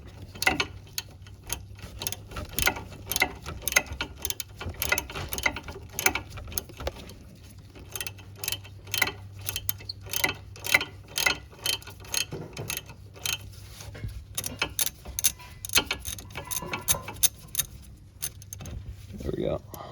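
A ratchet and wrench working wheel bearing bolts loose on a Nissan Altima, rapid metallic clicking bursts and jangling tool sounds repeating through the clip, close to the work, with someone talking now and then.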